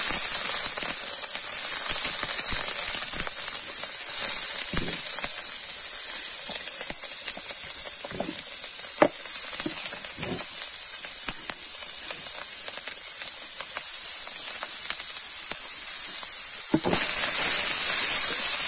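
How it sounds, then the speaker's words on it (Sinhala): Baby jackfruit dropped into hot oil sizzles loudly and steadily for the whole stretch, a close, bright hiss with faint clicks and pops scattered through it. "දැන් අපි තෙල් ටිකට පොලොස් ටික එකතු කරමු"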